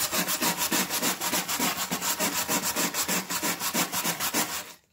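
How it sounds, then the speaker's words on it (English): A coarse welding-style wire brush scrubs old barn board in steady, rhythmic back-and-forth strokes, close and loud, about two or three passes per second, stopping at the end. "Next, you need a wire brush. This is actually starting to clean,"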